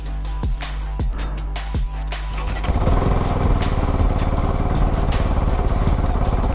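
A Kove 450 Rally motorcycle, nearly new and only a few starts old, runs close by: a few blips at first, then a steady, loud, rapid engine rumble with mechanical clatter throughout.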